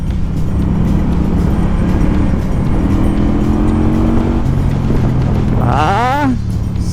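FKM Coolser 500 motorcycle accelerating on a test ride, a steady engine drone rising through the gears with wind rush and a brief whining pitch sweep near the end.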